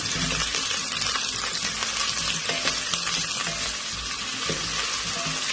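Potato pieces lightly frying in hot oil for an egg and potato curry, a constant close, dense sizzle and bubbling with faint stirring noises throughout.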